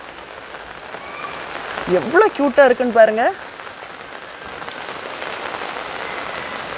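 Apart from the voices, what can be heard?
rain falling in a garden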